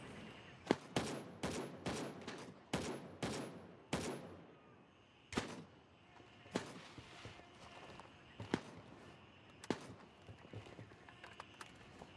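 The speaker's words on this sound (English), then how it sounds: "I hear him shooting, I just don't see him." Gunfire in a hardcore jungle shooter game: rapid bursts of automatic shots at first, then scattered single reports, crisp and sharp over quiet background and the soft thud of footsteps.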